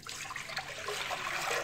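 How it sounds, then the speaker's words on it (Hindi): Water poured into a cooking pot while preparing mutton yakhni, a steady splashing pour lasting the whole moment, close and fairly loud with no talking over it. "तो सबसे पहले हमने एक पतीली लेनी है, इसमें हमने शामिल करना है ये पानी"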